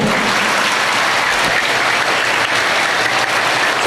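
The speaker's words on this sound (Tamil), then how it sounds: "உங்கள் கைத்தட்டல் மூலிமா சொல்லிக்கிறேன் நல்லா கைத்தட்டலாம்" Dense, sustained applause from a large audience fills a hall at a school celebration for Kamarajar's birthday, steady and loud with no voices over it.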